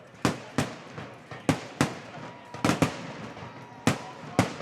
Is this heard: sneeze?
no